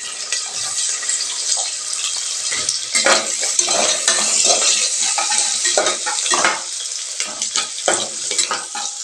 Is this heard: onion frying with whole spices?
yes